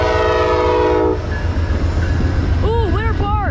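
Amtrak P42-DC locomotive #59 on train 59 passes in the rain, its horn blaring loud and close over rumbling wheels, with voices talking afterward.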